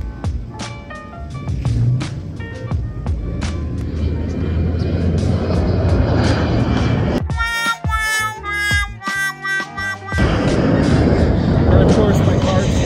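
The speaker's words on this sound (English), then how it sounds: "I got two planes coming in." An airplane coming in to land roars loudly overhead with broad rushing engine noise, and a brief stretch of people talking breaks in partway through.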